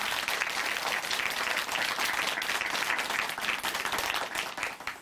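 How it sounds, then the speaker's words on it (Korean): A church congregation gives a sustained round of encouraging applause, a thick, even roar of many hands clapping at once that stays steady before easing slightly at the very end. "다시 한번 우리가 응원의 박수 보내드리겠습니다."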